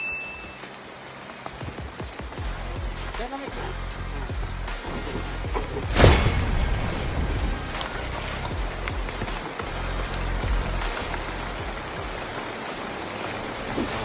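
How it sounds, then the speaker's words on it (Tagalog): Steady rain falls on a rural farm in Quezon province, a continuous broadband hiss of drops on surfaces with a brief louder splash or knock midway and no talking. "Umuulan, di ba?"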